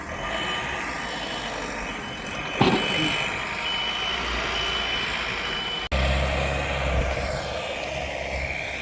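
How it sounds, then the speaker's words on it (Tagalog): A big truck reverses while clearing snow, its backup alarm beeping steadily and loudly over a continuous engine rumble, with a brief thump partway through. "Ang laking truck yan."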